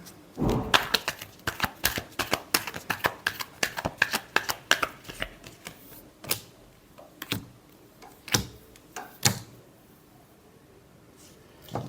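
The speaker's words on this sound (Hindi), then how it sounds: "last shuffle" Tarot cards being shuffled by hand, a quick run of crisp riffling taps at first that thins into spaced single slaps and clicks, close and fairly quiet with no voices.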